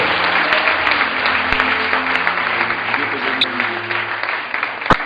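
A church congregation applauds to acclaim the Lord and welcome Brother Samuel, a steady wash of clapping that runs the whole time with a few sharper claps standing out near the end.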